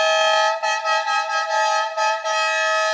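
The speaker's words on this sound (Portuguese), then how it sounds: "Colocou a tripla verdureiro na bongo." A triple-tone verdureiro air horn fitted to a Kia Bongo truck blares in a loud, sustained chord of stacked tones, pulsing in several short bursts over about three seconds with no talk.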